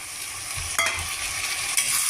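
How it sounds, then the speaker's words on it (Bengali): Chopped tomatoes go into softened onions frying over a high gas flame for a chicken curry, with a steady hiss of frying and a couple of sharp spoon-stirring scrapes against the pan. "এখন আমি টমেটো কুচনোটা দিয়ে দিচ্ছি"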